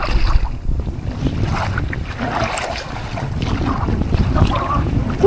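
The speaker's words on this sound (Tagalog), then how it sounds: "Lakas ng hangin." Strong wind gusts at sea buffet a small fishing boat, a constant rough rushing with microphone buffeting and splashes throughout and no talking.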